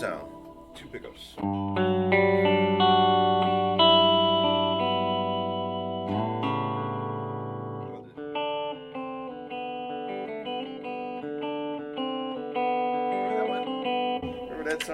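An electric guitar in the middle pickup position, using two pickups, plays sustained chords and a melodic line with a bright, slightly hollow tone and amp reverb, loud and close.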